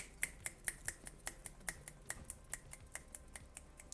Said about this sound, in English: I'm snapping my fingers aggressively to signify that I know it.